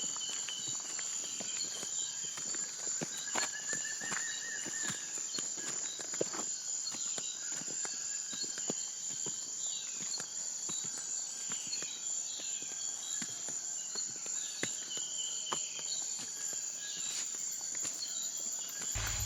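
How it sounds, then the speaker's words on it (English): Dense jungle ambience along a hiking trail on Koh Phangan, with a steady high-pitched chorus of crickets and insects and occasional faint bird calls far off. "You can hear the sound of the jungle."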